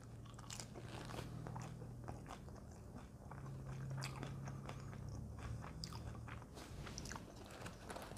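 Close, quiet crunching bites and chewing of a Dr. Oetker tuna pizza with a crispy base, a dense series of crisp crackles over a steady low background hum.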